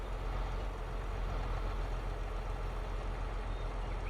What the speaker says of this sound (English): This 8RX sounds, this 8R sounds lovely. Lovely engine noise on.